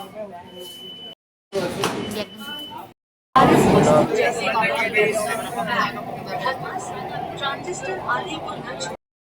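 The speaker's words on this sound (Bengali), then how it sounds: "গাইস তো এটা মেট্রো স্টেশন।" Busy crowd chatter echoes inside a Kolkata metro station, a steady murmur of many voices with brief breaks, train or door noise and a person talking nearby.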